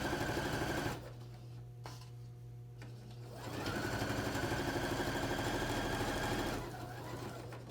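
A home sewing machine stitches a pillowcase in two steady, fast-running bursts, a close mechanical whir with a quiet pause between them.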